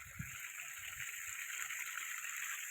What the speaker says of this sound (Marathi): पाणी निघतंय